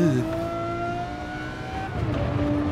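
A Lamborghini Murcielago V12 in Gran Turismo 7 on the Monza circuit drones with steady tonal engine whine, pitch holding then shifting as revs change, with faint tire noise and no talk.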